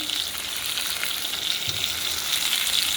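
Potatoes sizzle and crackle steadily in a hot pan, a continuous frying hiss with no one speaking.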